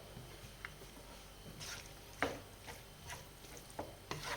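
Rice and sausage meat stirred together in a pan, a soft scraping and squishing with a few sharper spoon scrapes over a faint sizzle, close and fairly quiet, no talk.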